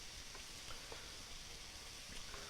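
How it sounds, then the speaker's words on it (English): Wet mushrooms sizzle in a pan for risotto, a faint, steady frying hiss with light crackles throughout. "what I'm listening for inside of the pan here is you listen for them to stop sizzling as hard"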